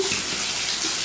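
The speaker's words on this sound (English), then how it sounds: "I'm rinsing my hand off" Running tap water splashing over a hand being rinsed, a soft, steady hiss of flowing water with small splashy changes, fairly close and alone.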